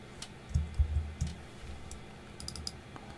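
Keystrokes on a computer keyboard while designing buttons in Figma: a short burst of soft, close clicks, a few quick taps clustered together, then sparser faint ticks, with no talking.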